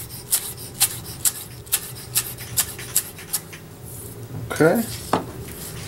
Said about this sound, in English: we're just gonna take a little bit of these greens like this and chop them up a little bit